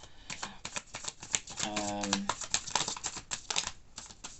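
Tarot cards are shuffled by hand in rapid crisp riffling bursts with soft slaps, close and fairly quiet, broken by a brief hum from a voice.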